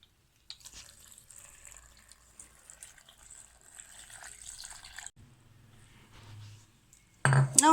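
Water pours into a jar holding chopped pineapple and watermelon with sugar for a pineapple punch, a steady trickling stream running for several seconds before a few louder clinks and knocks at the end.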